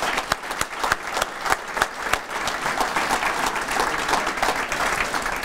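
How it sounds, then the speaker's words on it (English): An audience gives Mark a warm round of applause. It opens with a few sharp individual claps, then swells into dense, steady clapping that continues throughout, with no talking over it. "Let's give Mark another round of applause."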